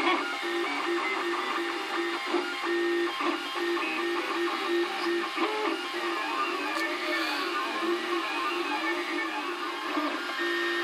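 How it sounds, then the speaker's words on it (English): A Cubify Cube 3D printer runs its first print: a steady, close whirr of stepper motors with rising and falling whining sweeps and small clicks as the head moves, continuous throughout. "so that's the first 3D print going on"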